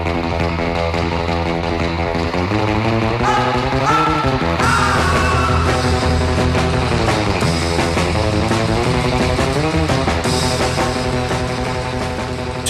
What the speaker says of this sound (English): Setting everything to overdrive created a sound like this.